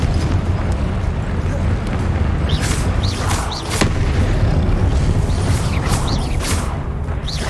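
Confringo fire spell blasts in the Hogwarts Legacy video game, repeated booming explosions and crackling impacts over a dense game soundscape, with a voice shouting spell incantations between them.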